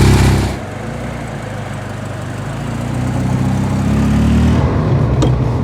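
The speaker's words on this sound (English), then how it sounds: "Ah, just listen to it burble." The engine of a 1983 Ferrari 308 GTS Quattrovalve burbles at idle, a close, steady low rumble that swells slightly in the last few seconds.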